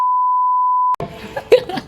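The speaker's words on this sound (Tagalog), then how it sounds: "beep it out" A censor beep masking a brand name, a pure, steady electronic tone lasting about a second that cuts off abruptly, followed by close casual talk and a brief cough-like sound.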